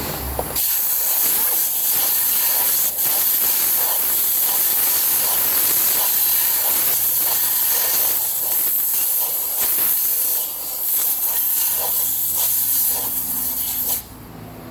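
Compressed air blows steadily into a capless fuel filler neck, a loud continuous hiss with a few brief spurts and a quick cutoff near the end.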